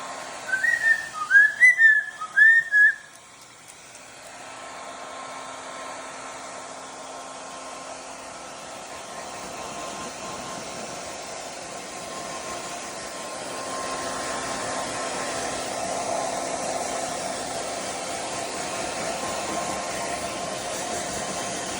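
A household blow dryer runs steadily as a broad, even hiss with a faint whine, starting after a few brief whistles and growing slightly louder partway through.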